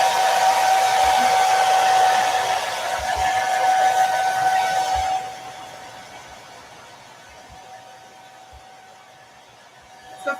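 A heat tool blows hot air over upcycled denim pumpkins, a loud, steady whooshing hiss for about five seconds that then drops to a softer, quieter roar.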